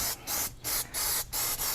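Engine dressing from an aerosol can being sprayed onto a Toyota 4Runner engine bay, close and loud, in five or six short hissing bursts separated by brief pauses.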